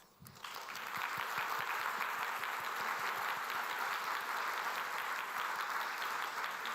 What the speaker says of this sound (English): Please join me in giving them big and warm applause.